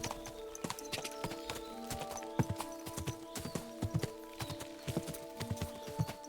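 In the medieval game Kingdom Come: Deliverance II, a horse's hooves clip-clop in a steady, quick rhythm over ground, close and distinct, with a soft tonal hum of game ambience underneath.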